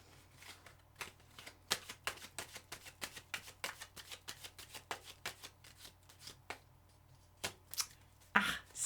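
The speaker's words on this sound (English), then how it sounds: "when the shuffle doesn't feel right, it just doesn't feel right" A deck of tarot cards being shuffled by hand, a quick series of crisp riffling snaps close to the microphone, repeating in bursts with short pauses between them and no talking.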